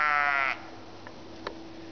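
A single close sheep bleats loudly for about half a second and then falls quiet, leaving faint background noise.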